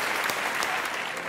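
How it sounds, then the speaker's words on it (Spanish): Church audience applauding for the Lord after a question-and-answer teaching on the Holy Spirit; steady, dense clapping from many hands, moderately loud and continuous through the short stretch, with no talk. "le damos un aplauso al Señor"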